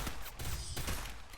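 Video-game gunfire in a Counter-Strike match crackles as a dense run of overlapping shots across the short span, loud and close with no break.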